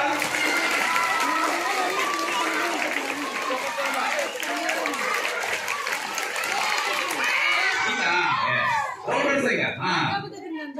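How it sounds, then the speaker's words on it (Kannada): A group of children clapping hands during a traditional rural village game, dense and lively with excited shouts and chatter mixed in, tapering into scattered voices near the end. "ಚಪ್ಪಾಳೆ ತಟ್ಟಬೇಕು"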